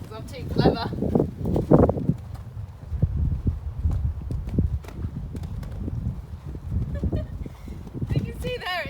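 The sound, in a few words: horse hooves while riding and jumping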